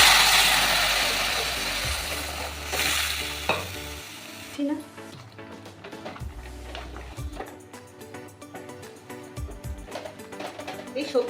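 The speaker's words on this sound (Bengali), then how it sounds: "এই সবজিটাকে একটু সাঁতলে নেব।" Vegetables hit hot ghee tempered with fenugreek, nigella and green chili for a pumpkin-shoot and pea dish. A loud sizzle fades after a few seconds, then close stirring scrapes and clinks repeat steadily over a softer fry.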